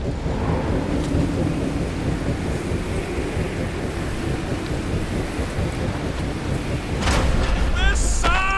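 Steady heavy rain and rumbling thunder from a stormy scene in the Guardians of the Galaxy game, a constant dense roar with a swell and sharp higher tones near the end, voices briefly present.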